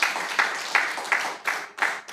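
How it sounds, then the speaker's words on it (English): An audience at an East Africa Law Student Association launch event claps in a series of rhythmic, evenly spaced bursts, moderately loud and close, with no voices over it. "Please clap for that."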